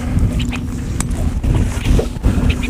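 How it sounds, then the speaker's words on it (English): Wind blowing while fishing from a boat on the water, a steady rumbling buffet across the microphone with light water and hull knocks and no voices. "the wind is really starting to mess with us"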